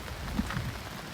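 Monsoon rain falling steadily outdoors near a river weir, a brief, even wash of rain noise with a low rumble underneath.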